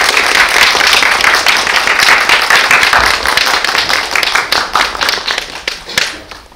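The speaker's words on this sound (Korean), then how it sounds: "감독님과 두 분의 주연 배우들 오셨으니 큰 박수로 맞이해 주시기 바랍니다" A film festival audience applauds the director and two lead actors at a post-screening talk, loud and dense at first, then breaking into scattered individual claps that fade out.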